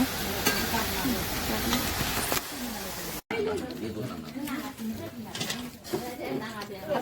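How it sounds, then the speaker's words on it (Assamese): Steady sizzling and frying of pork in a pan, loud and close, with people talking over it throughout. "গাহৰি ভাজি আছে আৰু ৰাইজৰ কাৰণে বনাই আছে।"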